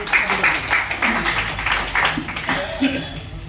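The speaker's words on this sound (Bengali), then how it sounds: "আমরা তাকে সাধুবাদ জানাই করতালির মাধ্যমে" Clapping from a seated audience welcoming the deputy police commissioner of Sylhet North at a daylong job fair event for unemployed youth, steady dense applause lasting throughout, with some voices mixed in.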